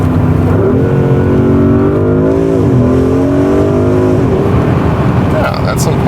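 Porsche Cayenne Turbo Coupé engine and exhaust accelerating, a loud, close, continuous rising drone whose pitch climbs and dips through gear changes.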